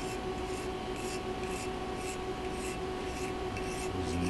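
A knife blade rubs across an India sharpening stone in steady, repeated strokes, a close, quiet rasping rhythm with no talking.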